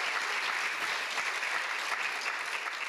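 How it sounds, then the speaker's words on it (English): An audience at a State of Schools Address applauds, a dense, even wash of clapping that stays steady and fairly close for the full stretch, with no speech over it. "Let's give them a big round of applause."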